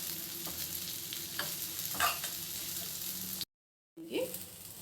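A spatula scrapes and stirs through salted food sizzling in a pan, with a steady frying hiss underneath and a brief silence near the end.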